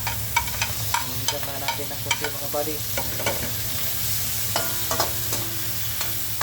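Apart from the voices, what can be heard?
ham frying and being stirred in a pan for carbonara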